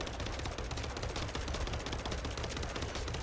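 Rifle fire in a video game hammers out as a dense, continuous burst of rapid shots, loud and unbroken for the full few seconds with no pause between rounds.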